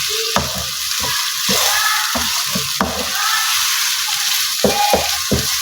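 Onions are being mixed into minced keema frying in a pan for a pyaz qeema dish. A constant sizzle runs beneath rhythmic scraping and knocking strokes of a spoon through the meat, loud and close, with no voices.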